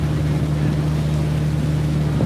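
A tour boat's engine at Tom Sawyer's Island hums steadily right beside the listener, a loud, constant low drone with faint water and wind noise mixed in.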